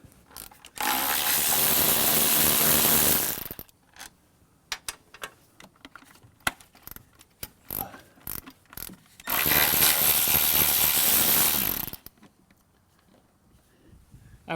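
A ratchet wrench loosens the 13mm bolts on a Mercedes 300SEL 6.3 V8 valve cover, two long loud bursts of rapid clicking separated by quieter scattered taps and handling noises, close to the microphone.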